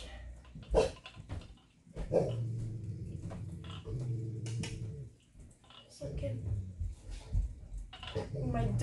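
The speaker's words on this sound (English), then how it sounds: "My dog is growling at the wall." A dog indoors growls at a wall in a series of low, drawn-out rumbling growls broken by short pauses, mixed with scattered clattering household noise close by.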